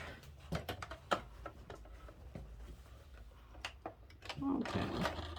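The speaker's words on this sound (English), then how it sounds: "I am sewing 1/8 of an inch from the edge." A sewing machine stitches around the edge of an adult shirt protector bib in uneven bursts of rapid mechanical ticking, close up, with a person talking over it and the machine running more steadily toward the end.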